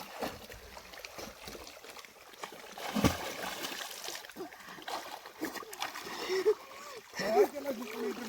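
A person jumps into cool water during a summer swimming outing, making scattered splashes and water noise. Lively voices talk and call out nearby.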